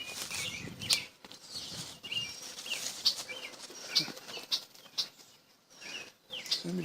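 Birds at a lakeside beside a small lighthouse, with bursts of wing flapping and scattered chirps, close and fairly loud, coming in irregular flurries with brief quiet gaps and no speech.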